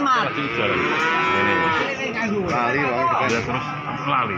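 Limousin cattle low loudly and repeatedly at a busy livestock market, their long, wavering moos close by while people talk over them.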